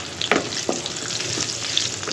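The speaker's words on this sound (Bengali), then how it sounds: "আর এখন দিয়ে দেবো রসুন কুচানো।" Chopped garlic sizzles steadily in hot oil close by, with a few sharp stirring scrapes breaking through the constant frying hiss; no one speaks.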